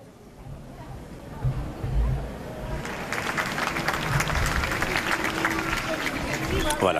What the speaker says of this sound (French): quelques applaudissements à l'arrivée du patriarche œcuménique